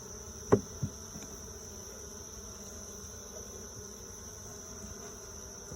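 Honey bees from a swarm hum in a Layens hive trap, a faint continuous buzz with a couple of brief knocks near the start.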